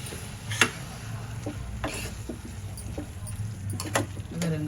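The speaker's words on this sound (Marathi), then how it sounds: "आपण हा मसाला छान परतून द्यावा" Masala of yogurt with turmeric, chili, salt and coriander powder sautéed in a pan for paneer bhurji, with a low, soft sizzle and a few sharp clicks of a spoon against the pan, close and fairly quiet.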